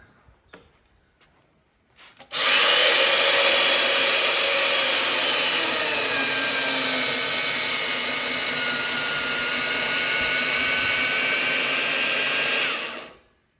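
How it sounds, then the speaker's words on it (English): A mortiser cuts a mortise in an oak porch post, starting abruptly with a loud, steady high-pitched motor whine and cutting noise that runs for about ten seconds and then stops. "Clamp them up, make sure it's flat on the bed, and mortise away."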